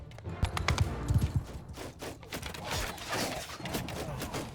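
Archers loosing a volley in the video game Mount & Blade II: Bannerlord, a scattered burst of sharp releases and impacts amid battle clatter, moderately loud with no talk.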